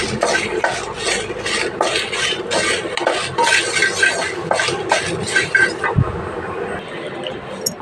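Red chillies, cumin and coriander seeds dry roasted in a pan without oil make a loud, close rattling scrape of stirring, with rhythmic pulses that fade near the end.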